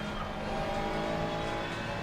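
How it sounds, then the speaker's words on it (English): Ferrari 296 GT3 race car in Assetto Corsa Competizione at Monza, a steady loud engine drone with turbo whine throughout, no talk. "You hear the turbos spooling up."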